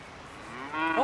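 A single cow gives a short, close moo that swells in loudness at the very end of a brief quiet moment.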